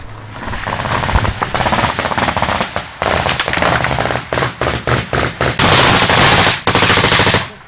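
Rapid bursts of automatic gunfire in combat in Afghanistan, loud and close, with sharp cracks coming in dense volleys and short gaps between them and no talking.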